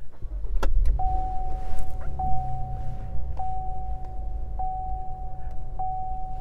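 A 2018 Buick LaCrosse starts up close by, a brief whir and catch followed by a low steady idle. A thin electronic chime beeps repeatedly over the engine hum, and no one speaks.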